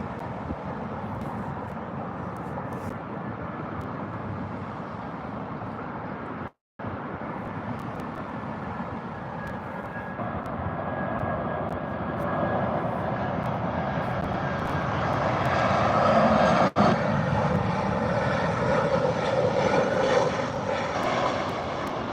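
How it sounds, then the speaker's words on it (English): An EasyJet Airbus A319 airliner on final approach to land at Gatwick, its engine roar steadily building and growing louder as it nears, with a brief dropout early on and no talk. "the EasyJet 319 from La Rochelle is just under a mile out"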